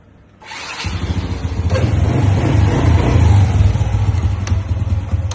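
A car engine bursts into life and keeps running steadily up close, with a throaty low rumble and slight swells in revs throughout, no voices over it.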